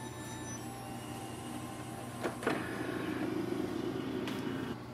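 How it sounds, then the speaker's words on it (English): An HP Smart Tank 7602 inkjet printer powers up with a steady mechanical hum, a couple of brief whirring clicks, then a louder motor whir that runs and stops. "Once you hear this sound, that means your printer has started."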